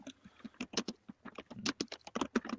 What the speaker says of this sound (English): somebody's typing really loud